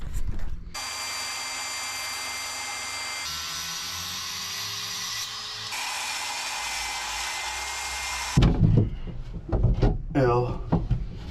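A power saw whines loudly and steadily through a piece of wood for a truck camper build's wheel well, its tone shifting briefly mid-cut, then stops and gives way to handling clatter and a person talking.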